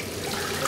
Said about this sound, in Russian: Врач готовит сероводородную ванну.